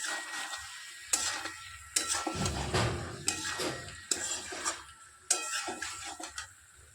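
Food being stirred in a pan after sauce is added during home cooking, heard as repeated scraping and clattering strokes with soft sizzling between them, close by and moderately loud.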